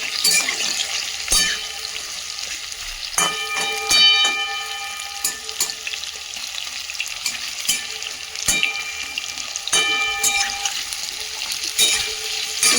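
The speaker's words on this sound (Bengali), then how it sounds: "আলুগুলোকে হাই ফ্লেমে একটু ভেজে নেব" Potato pieces fry in hot oil over a high flame with a constant sizzle, broken by sharp metallic clinks and scrapes of a spatula against the pan at irregular moments.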